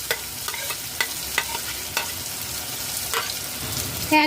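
Prawns fried earlier go into a hot pan with a pointed gourd and prawn dish, giving a steady loud sizzle broken by repeated clinks and scrapes of a stirring utensil, with a sharper clatter at the end.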